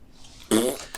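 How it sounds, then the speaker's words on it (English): A fart noise sound effect from Syrinscape played during a tabletop Dungeons & Dragons session blurts out once, loud and close, after a quiet moment. "Quick, where's the fart noise?"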